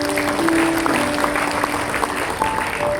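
A church audience at a Christmas service claps in a short burst of applause, a moderate, fairly close patter of hands with faint tonal hum underneath and no talking.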